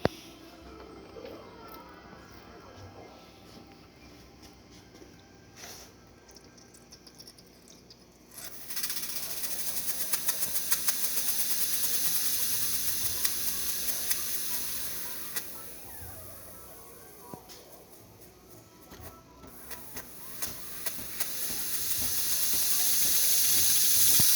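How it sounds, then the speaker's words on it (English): The steam wand on a freshly serviced Breville XL espresso machine opens after some quiet handling noises and hisses strongly and close by, easing off briefly midway before surging louder again. "So let's test the steam."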